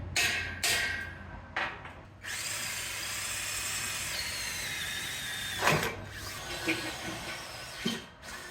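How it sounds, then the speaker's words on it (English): A power drill boring a 7/16-inch hole through steel for a T-fence-post puller, with short bursts of drilling followed by a sustained whining run and a few knocks near the end, nothing spoken. "I now need to put a 7/16 hole through the center of here."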